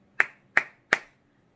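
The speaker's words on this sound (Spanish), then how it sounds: "Puedo aplaudir." Three sharp, evenly spaced hand claps ring out close and clear, about a third of a second apart, during a children's mini class, with nothing else around them.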